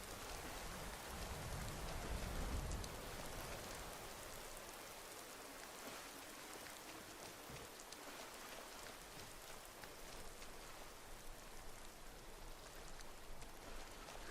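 Light rain in Skyrim with fog and a weather mod, a soft even hiss of falling drops with a faint low rumble early on, steady and quiet throughout.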